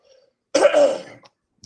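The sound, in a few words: throat clearing and cough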